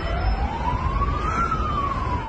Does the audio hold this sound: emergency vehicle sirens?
yes